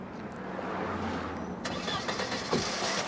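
A Mercedes engine starts up on an embankment near Waterloo Bridge, a short cranking burst that catches into a rough running engine, heard under a faint hum of background noise.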